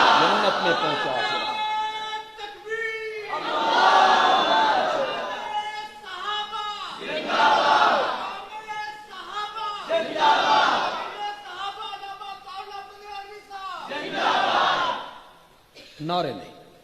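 Crowd at a religious gathering chanting slogans in loud, rhythmic call-and-response bursts, several swelling shouted phrases separated by short pauses, with a voice leading between them.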